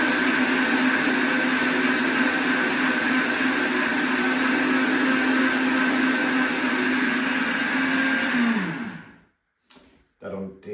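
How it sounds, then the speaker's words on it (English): An electric mill grinds flaxseed into flour with a steady high whine and a whirring roar. It runs for about nine seconds, then winds down and stops, followed by brief clatter. "And just simply mill that into a nice flour."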